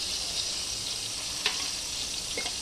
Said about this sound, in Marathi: कांदा हिरवी मिरची हे सगळं आपण छान परतून घेणार आहोत